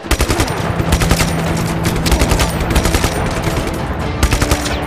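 Burst-fire gun shooting in the video game Just Cause 3, loud rapid bursts of gunfire repeating steadily without pause, with no voices over them.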